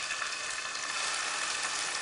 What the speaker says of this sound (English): Once the butter and the oil starts to sizzle, then we can place our scallops in.